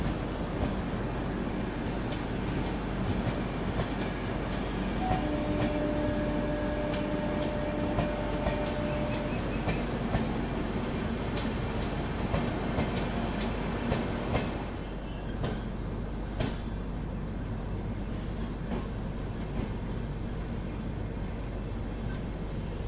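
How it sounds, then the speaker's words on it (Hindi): Dehradun Janta Express passing during an overtake, heard from aboard the Kashi Vishwanath Express between Delhi and Lucknow: a steady, loud rumble of rolling wheels and rail noise with faint clatter throughout, easing slightly near the end. "चलिए फिलहाल इसी ओवरटेक के साथ देहरादून जनता एक्सप्रेस भी निकल चुकी है।"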